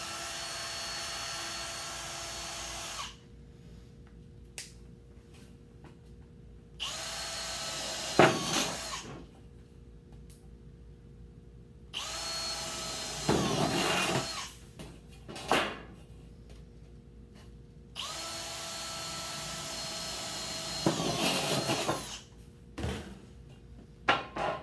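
Several bursts of power drilling into sheet metal, each a few seconds long and separated by quiet gaps, with a high whining grind and a steady background hum.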